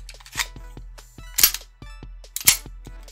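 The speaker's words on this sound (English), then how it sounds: "I'll ensure the pistol is clear." A 1984 CZ-75 pre-B pistol being cleared, heard as a series of sharp metallic clicks and clacks. They come close and loud at uneven intervals, with the strongest snaps near the middle and end and no talk.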